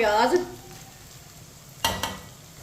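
Chopped onion stirred into chicken frying in a pan for Chinese rice, a soft sizzle under a brief voice at the start, then two sharp scrapes of the spoon against the pan near the end.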